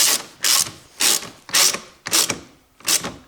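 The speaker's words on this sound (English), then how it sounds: "I take my 10mm socket and I fasten this bolt in that direction" A 10mm socket ratchet tightening a bolt on a 2017-or-later Toyota Corolla 1.8 gasoline hybrid during a battery replacement, six quick close ratcheting bursts of clicking separated by short pauses.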